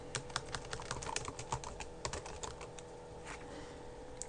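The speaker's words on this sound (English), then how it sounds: "you just type in the correct name" A computer keyboard clicks with quick, irregular keystrokes as a card name is typed in, soft and close, with the taps thinning out toward the end and no talking.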